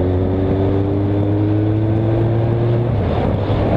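Moto Guzzi Griso motorcycle engine while cruising, a loud steady low drone with a constant hum that drops slightly in pitch near the end, with no talk.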